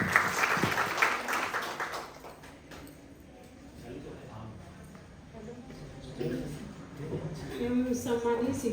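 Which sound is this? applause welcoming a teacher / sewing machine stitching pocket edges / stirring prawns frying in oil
applause welcoming a teacher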